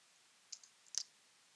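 Computer mouse clicking, two faint, sharp clicks about half a second apart in a quiet room, the second slightly louder and doubled.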